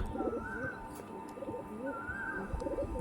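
Pigeons of a fancy breed cooing close by, soft rolling coos rising and falling in two or three repeated phrases, with faint shuffling and light background noise.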